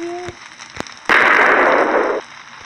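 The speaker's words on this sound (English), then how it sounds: "Try to sleep on the Nether. Press the bed. And it will explode." A bed blowing up in the Nether in Minecraft Pocket Edition 0.12.1: a sudden loud crackling blast that holds for about a second before cutting off, after a few quieter clicks.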